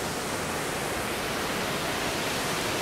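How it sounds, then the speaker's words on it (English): A waterfall in a Tasmanian rainforest gives off a constant broadband rush of falling water, steady and fairly loud throughout with no voices over it. "And this is the waterfall."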